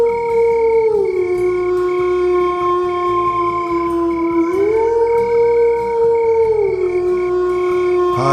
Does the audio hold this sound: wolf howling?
yes